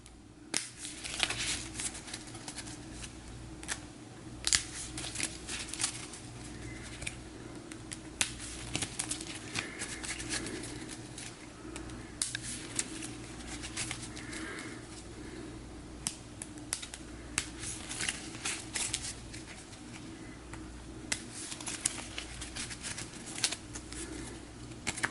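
A deck of cards for a fantasy card game's encounter deck is shuffled in a steady run of crisp riffling clicks and snaps, close by over a low room hum, with no talking.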